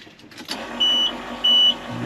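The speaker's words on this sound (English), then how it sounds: "Hope it cranks." A 1995 Ford dump truck engine cranking and catching in cold weather, heard close as a brief burst of whirring, rumbling engine noise.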